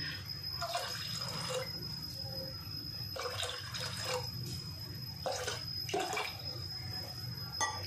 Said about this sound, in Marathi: म्हणून मी अजून थोडंसं पाणी टाकणार आहे